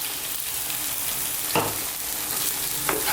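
A tofu curry with a splash of coconut milk sizzling steadily in a pan, with two short scraping strokes as a utensil stirs and smooths it out.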